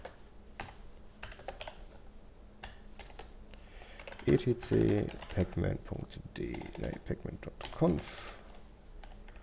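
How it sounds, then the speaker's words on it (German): Fingers type on a computer keyboard on an Arch Linux KDE machine, producing a steady run of quick, close clicks and key taps, with someone speaking over part of it. "ich sollte vielleicht auch mal hier richtig tippen"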